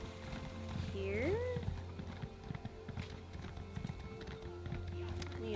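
Horse hooves gallop in the video game Elder Scrolls Online, a steady rapid clip-clop rhythm running throughout with brief whooshing game effects layered over it.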